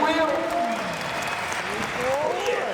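Crowd applause at a Disneyland Paris car stunt show, steady and fairly loud, with a voice talking over it throughout.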